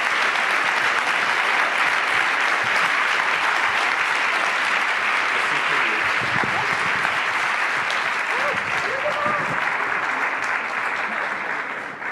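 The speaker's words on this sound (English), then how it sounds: "You get a much bigger clap." An audience at a conference closing ceremony applauds with steady, dense clapping that lasts throughout and fades slightly at the end.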